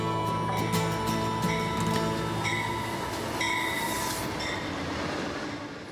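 Empire Builder train arriving at Glacier Park station: a close, loud rumble of rolling railcars with high squealing wheels and clicking over the rails, easing steadily.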